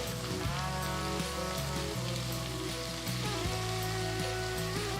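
Thinly sliced onions sizzling in hot oil spiced with cloves, cardamom, star anise, mace, cumin seeds and bay leaves: a steady, loud, close frying hiss throughout, mixed with background music.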